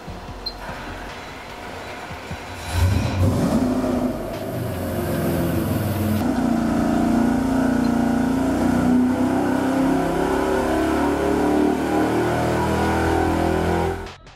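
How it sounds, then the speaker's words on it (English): A GM LS V8 engine with stock rockers and factory valve springs revving on a test stand, idling before it climbs into a loud, sustained high-rpm roar that holds steady and then cuts off abruptly at the end. "we'll run the motor stock with the stock springs and the stock rockers"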